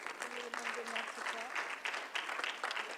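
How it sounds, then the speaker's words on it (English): Public in a city council chamber applauding, a steady mid-level wash of clapping from a roomful of people with a voice faintly audible beneath it. "if I can ask the public, please no applause"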